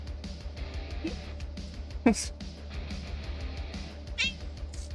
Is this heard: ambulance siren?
no